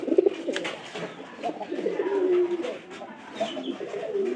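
A white pigeon coos in low, throaty rolling phrases, repeated several times at close range, with no talk.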